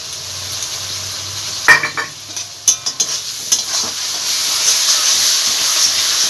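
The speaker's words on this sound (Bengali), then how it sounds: "এটা ভালোভাবে আদা আর রসুনটা ভালোভাবে ভেজে নিতে হবে তেলের মধ্যে" Ginger and garlic paste sizzles and hisses steadily in hot oil, with a few sharp spatters and spoon scrapes as it is stirred, close and continuous with no talk.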